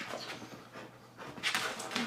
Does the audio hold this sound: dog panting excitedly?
yes